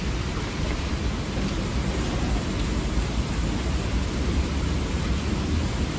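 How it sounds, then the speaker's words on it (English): Heavy rain pours down in a dense, loud, unbroken roar with deep low rumbling of thunder mixed in, continuous for the whole stretch with no talking. "Stop raining"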